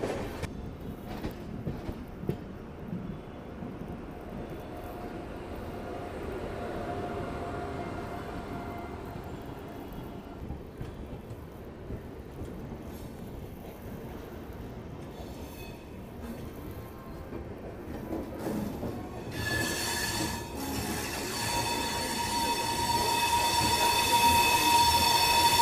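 Shatabdi Express passenger train on the Delhi–Bhopal route running at about 150 km/h, a steady rumbling roar of wheels on rails throughout that swells louder toward the end, with rattling and a higher whine joining near the close.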